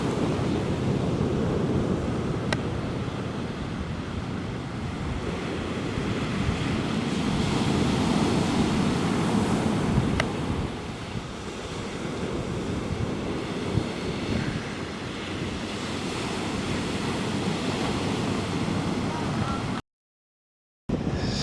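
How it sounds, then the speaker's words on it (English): Ocean waves break and wash continuously onto a Florida beach, a steady broad surf roar with gentle swells and light wind buffeting the microphone, and no talking. "Do you look at those waves?"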